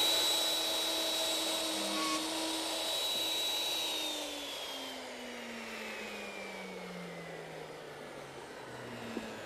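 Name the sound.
wood router started and running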